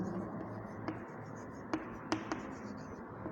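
Someone writes out the solution to a cos 60 degree maths problem in quiet, scratchy strokes, with a few sharper taps and scrapes standing out against a soft background hiss.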